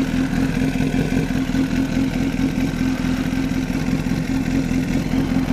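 A motorcycle engine runs close by in a steady, throbbing idle with a firm low hum and light clatter, continuous for several seconds with no talk.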